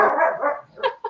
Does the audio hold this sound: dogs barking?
yes